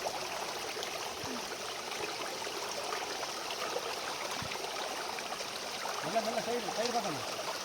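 Soft, continuous rush of a stream flowing near a waterfall, fairly quiet and steady, with a voice speaking briefly toward the end.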